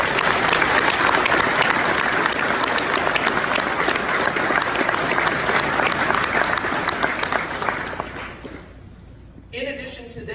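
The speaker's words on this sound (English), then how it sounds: "give a round of applause to all our TAC staff" Sustained applause from an audience for the staff at a summer graduation ceremony, a dense, steady roar of many hands that fades out near the end as a voice begins.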